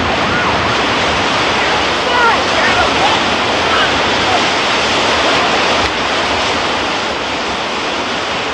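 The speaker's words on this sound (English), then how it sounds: "Then Ken hit the rapids." River rapids in an arroyo make a loud, dense, continuous roar of rushing water that fills the whole clip with steady, unbroken noise.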